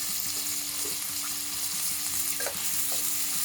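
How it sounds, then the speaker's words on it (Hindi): Tomato, onion and curry leaves fry together for Maharashtrian masala masoor dal, making a steady near sizzle with a few stirring clicks and a faint tonal hum underneath. "तो इसे खूब अच्छे से लाल करना है, तो टमाटर भी पकेंगे और प्याज भी साथ में ही पकेगी।"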